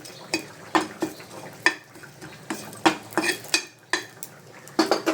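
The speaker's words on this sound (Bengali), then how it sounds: "এদিকে শুকনো খোলায় এটা ভাজা চলছে" Something dry-roasts in an earthen pan with no oil, stirred in a brisk, regular rhythm of scraping and clattering strokes, close and distinct, with no talking.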